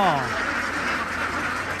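A dense flock of ducks on a duck farm, including CB Super and Khaki Campbell breeds, keeps up a loud, continuous chorus of overlapping quacks that fills the whole stretch.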